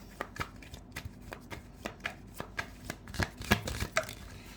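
Tarot cards are shuffled by hand and drawn from the deck, a quick run of crisp riffling flicks and soft slaps at an irregular rhythm, close up with no voice.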